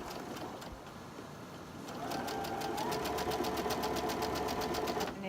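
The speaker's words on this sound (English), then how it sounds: "And then I'm going to show you how to sew it." Sewing machine stitching through pinned quilt block fabric, the motor whirring up after a quiet start into a fast, steady rhythmic needle chatter that runs close and continuous to the end.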